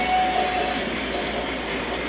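A Long Island Camelback model train locomotive rolls along a layout, giving a steady, continuous rumbling hum with a faint high tone early on, close and alone without talk.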